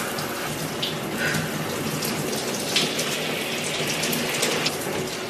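Shower water runs continuously, a steady close hiss of spray splashing down with small splatters and no pauses.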